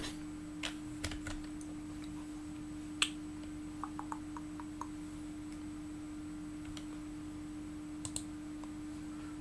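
Computer keyboard typing, heard as a handful of sparse, faint key clicks scattered over a steady low electrical hum, with a short run of quick taps near the middle and no talking.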